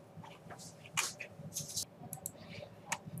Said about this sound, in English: we are going to go ahead and type up the information that is in here